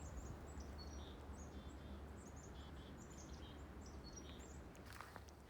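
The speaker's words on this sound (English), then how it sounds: "you can hear some birds chirping." Faint, scattered chirps and calls of birds in spring woodland beside a brook, over a steady low background hum, distant and quiet throughout.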